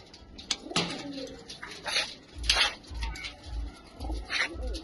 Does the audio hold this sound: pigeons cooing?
yes